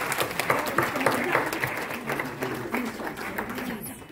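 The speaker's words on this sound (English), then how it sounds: "A huge round of applause for Sonam as well, please." Audience applause for Sonam Kapoor at a book launch event, moderate clapping from a seated crowd running under some background voices and ambient hall noise.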